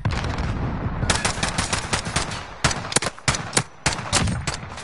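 Loud video game gunfire rings out in a competitive match as rapid bursts of sharp shots, separated by short pauses, from an automatic weapon.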